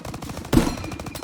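Machine gun fire in the Call of Duty WWII video game: one loud, sharp blast stands out midway over a steady, rhythmic rattle of battle noise.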